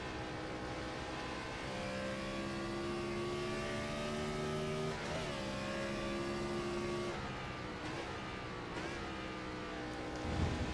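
A race car in a NASCAR-style racing game at Watkins Glen International roars steadily at high revs, its engine note holding and shifting pitch through gear changes, loud and continuous with no talk.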